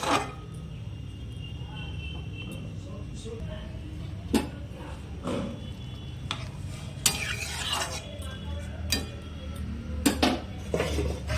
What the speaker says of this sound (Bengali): দিয়ে একটু নেড়ে চেড়ে আমি চিকেনটা ঢেকে দেব